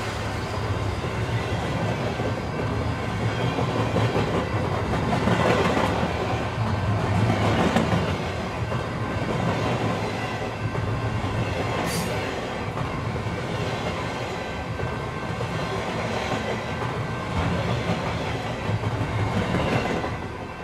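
A train rolls along the tracks with steady rumbling and clickety-clack wheel noise, loud and continuous throughout with a brief high squeal near the middle, as a sound effect in a horror story.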